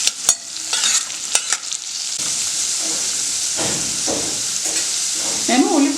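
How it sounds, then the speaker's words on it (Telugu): Chopped onion sizzles and spits steadily in hot oil as the tempering for a capsicum masala curry, with scraping stir strokes running through the frying near the start. "నేను ఉల్లిపాయ రంగు మారే వరకు నేను దీన్ని ఫ్రై చేసుకుంటాను"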